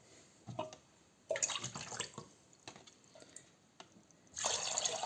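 Water poured into a pot holding coarse rock salt to make brine for fermented cabbage: close splashing pours in short bursts with pauses, ending in a longer, stronger stream.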